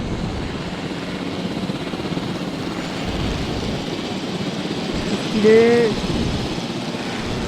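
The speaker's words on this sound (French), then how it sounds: "je peux accéder à l'hélicoptère et je peux piloter l'hélicoptère" A helicopter flies in the video game Jurassic World Evolution, a steady whirring rotor and engine drone throughout, with a brief spoken word from a player near the end.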